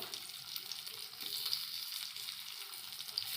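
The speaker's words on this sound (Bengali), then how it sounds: "ধোঁকাগুলো ভেজে নেবো।" Lentil dhoka cakes frying in oil in a kadai, a soft steady hiss and crackle of bubbling oil heard close and fairly quiet, with no talking.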